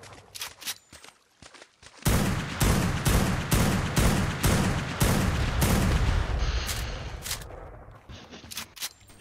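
Gunfire in Ark: Crystal Isles, a few quieter shots followed by a long run of loud, evenly spaced heavy blasts, then scattered sharper shots near the end, close.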